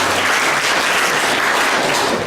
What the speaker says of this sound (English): give a round of applause for Officer Askar